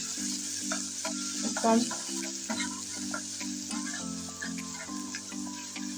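About a spoonful of garlic paste sizzles in hot oil, a constant bright crackle with rhythmic stirring pulses, while a voice briefly speaks over it.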